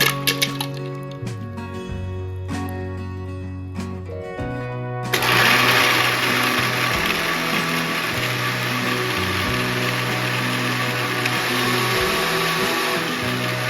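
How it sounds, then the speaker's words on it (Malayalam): A mixer grinder blends milk, sugar and ice cubes: after a few quiet seconds the motor starts abruptly and runs loud and steady to the end, with a dense whirring roar. "പിന്നെ കുറച്ച് ഐസ് ക്യൂബ്സും മിക്സിയിലിട്ട് നന്നായി ഒന്ന് അടിച്ചെടുക്കാം."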